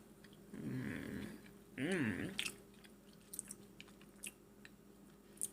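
A gluten-free vegan ginger cookie being bitten and chewed up close, a couple of soft crunchy bites followed by quiet mouth sounds and faint clicks.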